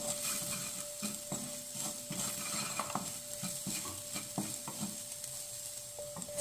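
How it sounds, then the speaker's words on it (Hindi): Spoon stirring turmeric, red chili and coriander powder into food frying in a pan, with a steady low sizzle beneath repeated scraping and clinking strokes against the cookware, close and continuous. "1/4 टीस्पून हल्दी यानी कि टर्मरिक पाउडर मिक्स इन करेंगे और 1/2 टीस्पून रेड चिली पाउडर भी मिला देंगे."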